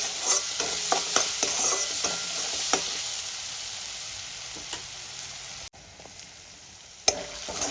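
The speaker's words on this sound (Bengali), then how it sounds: "আদা রসুন বাটা দিয়ে দিয়েছি 1 চামচ। একটু ভালো করে কষিয়ে নেব, কাঁচা গন্ধটা চলে যাওয়া পর্যন্ত।" Ginger-garlic paste sautéed in a frying pan for a chicken patiala curry gives a steady close sizzle, with a spatula scraping and stirring in short strokes and a brief sharp clatter near the end.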